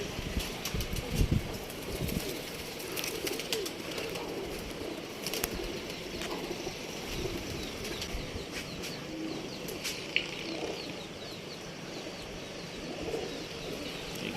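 A few pigeons, two or three, return from the open sky, with soft cooing, faint chirps and scattered wing flaps against a steady outdoor background.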